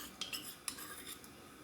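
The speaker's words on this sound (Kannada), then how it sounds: "ಇದಕ್ಕೆ ಒಂದು 2-3 ಸ್ಪೂನಷ್ಟು ಮೊಸರು ಹಾಕ್ಕೊಂಡು ನಾನು ಕಲಿಸ್ಕೊಳ್ತಾ ಇದ್ದೀನಿ." A spoon clinks and scrapes against a bowl while gram flour is mixed with curd, a few light, sharp taps and scrapes, quiet and close.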